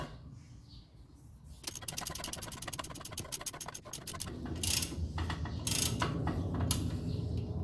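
A ratchet wrench turns a nut on the exhaust of a Honda Brio Amaze, giving a fast run of close, crisp clicks that breaks off and then comes back in short bursts over a low hum.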